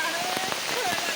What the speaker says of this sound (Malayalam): പുഴയോരം നല്ല മഴയാണ്.